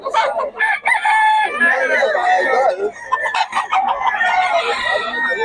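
A rooster crows loudly and repeatedly, with clucking chickens close by and a busy, noisy market around them.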